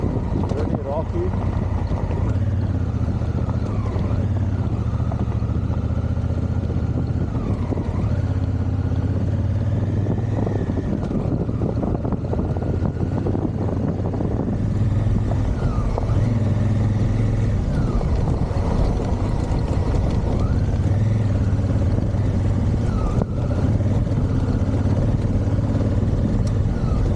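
A motorcycle on a Dallas-to-Oregon tour rides over a rocky gravel road, engine droning loudly and continuously with rough road and wind noise, and a rider talks now and then over it.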